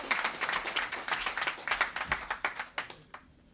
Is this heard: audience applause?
yes